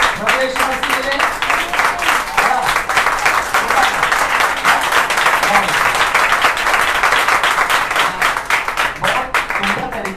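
An audience at a church service applauds with steady, dense clapping that stays loud and close for the whole stretch, with no break and no voices standing out.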